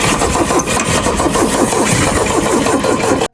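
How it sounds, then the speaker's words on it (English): A restored 1980s Volvo engine cranks and catches, settling into a loud, close, steady rumbling idle with a rhythmic chug before cutting off abruptly. "the engine finally starts, its roar breaking the long silence of inactivity"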